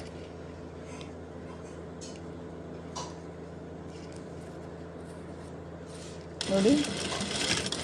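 A sewing machine stitches fabric for a blouse latkan, its soft mechanical whir running steadily under a woman's speech, followed by a louder burst of fast stitching near the end.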